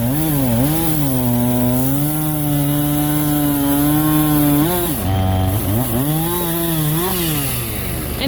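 A chainsaw fitted with an Oregon brand chain cuts through wood on a snowy day, its engine loud and steady, dipping and surging in pitch as it works through the log.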